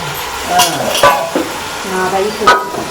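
Mutton stirred in a frying pot: a steady sizzle with scraping strokes and light metal clinks from the spoon against the pot, close and loud.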